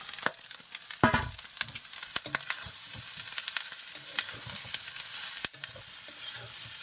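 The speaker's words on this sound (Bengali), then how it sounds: "এবারে ভালো করে কষাই করবো।" Pasta stir-fried in a pan with salt and cumin powder, sizzling steadily while a spatula scrapes and clatters against the pan in irregular strokes.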